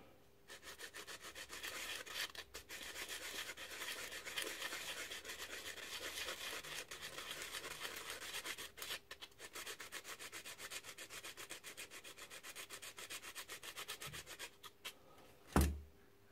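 Light filing of a part with a makeshift file while fitting piston rings and checking their end gap, a steady close rasping rub that runs on for about fifteen seconds, then a single sharp knock at the end.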